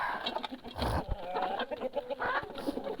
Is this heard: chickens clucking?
yes